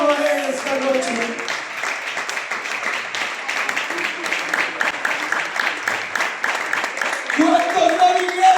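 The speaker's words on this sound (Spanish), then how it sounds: "Aplaudan por él esta noche." A church congregation claps together for someone during an evangelical service, sustained dense applause running throughout, with a preacher's voice heard over it at the start and end.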